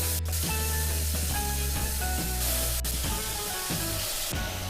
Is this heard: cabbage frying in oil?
yes